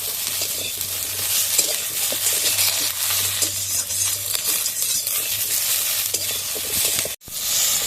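Bitter gourd pieces fry in a small amount of oil and are stirred steadily. Constant close sizzling mixes with the scraping of a spatula, and one short pause comes near the end.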